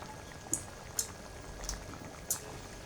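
Chicken topping for mie ayam simmers quietly in a pot, a soft low bubbling bed broken by four brief sharp pops or drips, faint and close, with no speech.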